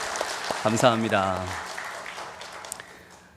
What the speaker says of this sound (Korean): 큰 박수 한번 주시죠.